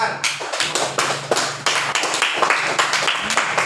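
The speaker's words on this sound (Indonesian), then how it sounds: "Tepuk tangan." A classroom of students claps together in a quick, loud, close pattern of sharp hand claps, bursts of claps repeating in a steady rhythm for a few seconds.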